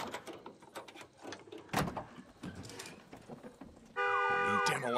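Car alarm in the zombie video game Days Gone blaring suddenly after a stretch of clattering and scattered noises, loud repeating electronic tones with a warbling pitch filling the final second.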